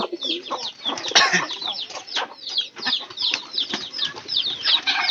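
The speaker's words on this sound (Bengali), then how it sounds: "এই যে আমাদের ডিম পাড়া মুরগিগুলা" Laying hens cluck and cackle continuously on a farm, several birds close by overlapping in a busy, steady chorus with occasional louder calls and faint wing flutters.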